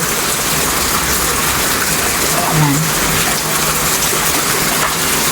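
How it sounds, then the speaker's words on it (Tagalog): Steady, dense hiss of heavy rain pours down continuously, with a brief voice surfacing in the middle. "Gabi po ulan dito. Simula nung madaling araw. Actually, nung gabi pa lang. Malakas na."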